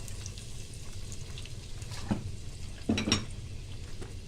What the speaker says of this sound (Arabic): هحط هنا في الحله البصلايه